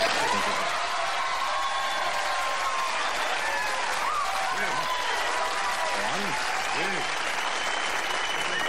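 Studio audience of a late-night talk show applauding, a steady, dense wash of clapping that holds at full strength for the whole stretch, with cheers and voices mixed into the crowd.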